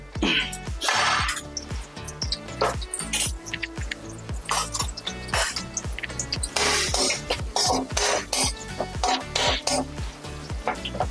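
Green chili and onion slices fry in a pan, with repeated clinks and scrapes of stirring against the pan over a sizzling bed, close and fairly loud, with voices faintly present.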